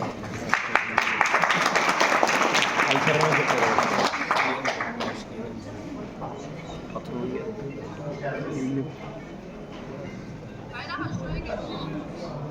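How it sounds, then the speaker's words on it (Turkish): Applause from a crowd at a Turkish wedding ceremony, loud at first and then fading into a steady background of chatter and murmuring voices. "Bekliyoruz efendim alkışlarla."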